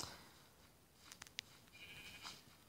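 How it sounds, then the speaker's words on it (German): A sheep bleats when struck in survival-mode Minecraft Pocket Edition, heard as a few short, faint game sound effects against a quiet background. "Einfach auf ein Schaf schlagen."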